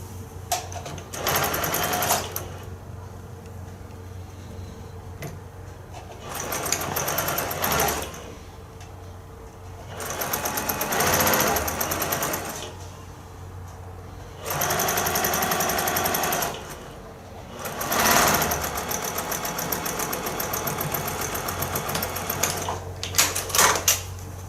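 A sewing machine stitching across fabric in five distinct bursts of rapid, buzzing needle action, each a few seconds long, separated by quieter pauses with faint handling noises.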